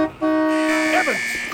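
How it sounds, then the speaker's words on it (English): A truck horn honks in the Call of Duty 1 video game, one long sustained blare lasting over a second, loud and close, with a brief voice starting near its end. "you finally hear a honk"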